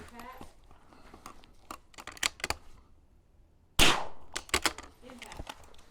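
Rifle shots ring out at a precision rifle match, with sharp single cracks and a louder report near the middle, spaced irregularly while a person talks quietly between them.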